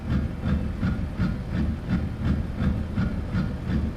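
A passing train in American Truck Simulator, loud and close, its wheels beating a steady repeating clickety-clack rhythm over a low rumble with a slight hiss, no voices.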